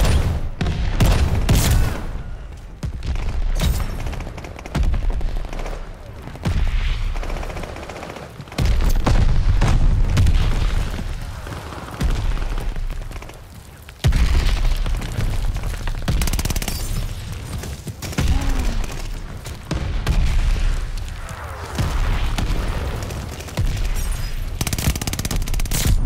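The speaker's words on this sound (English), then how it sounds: "Don't want to kill y'all with my bombs." Bombs and gunfire in Call of Duty Vanguard on PS5 during a hardcore team deathmatch, a dense run of loud booms and rapid shots packed close together for the whole stretch, with brief lulls between volleys.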